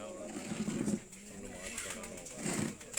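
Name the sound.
pigeons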